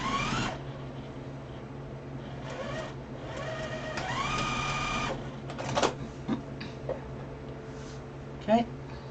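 A sewing machine stitches quilt pieces in steady whirring bursts that rise and stop, with short clicks and thumps between runs and some faint background noise.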